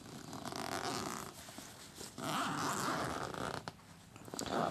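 A zipper on a camera bag for a photography kit is pulled open in a few rasping strokes, close and moderately quiet, with a short pause between pulls and no speech.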